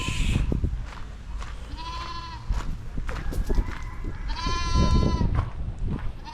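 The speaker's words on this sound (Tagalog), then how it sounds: "so yun ang mga kambing" Goats bleating twice in drawn-out, wavering cries over a rumbling background of wind or rain, with faint voices nearby.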